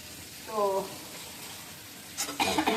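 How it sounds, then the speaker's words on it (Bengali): Spice paste with turmeric sizzles as it is sautéed in a pan in a home kitchen before fish is added, a steady frying hiss under a brief spoken phrase, with louder crackling bursts near the end. "মশলাটা কষিয়ে নিই, তারপরে মাছ দেবো"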